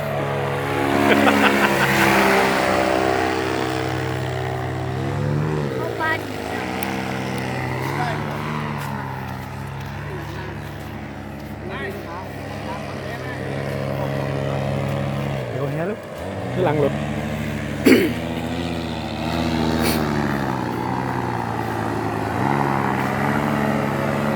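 A steady droning paramotor engine hums throughout with shifting harmonic tones, while a voice talks over it in the foreground.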